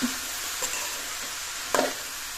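Sliced bitter gourd sizzles steadily in a hot pan, with a few soft scrapes of a spoon stirring it, close and fairly quiet with no talking.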